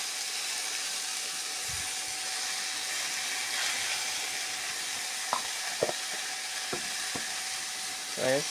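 Mixed vegetables with ridge gourd, potato, carrot, peas and pumpkin frying in a pan, a steady soft sizzle throughout with a few clinks and scrapes of stirring near the end.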